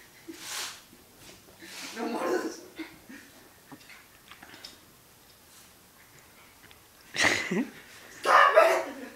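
A puppy yips and barks in short, scattered bursts at close range, mixed with people talking in a room.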